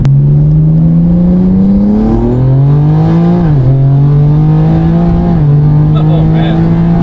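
A BMW S58 inline-six with upgraded Spool twin turbos and port injection accelerates hard on low boost, a loud close engine note rising steadily through the gears with brief dips at each shift.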